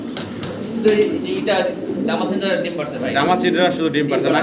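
Pigeons coo continuously at a pigeon farm holding several young female birds, soft warbling calls layered over one another under someone talking throughout.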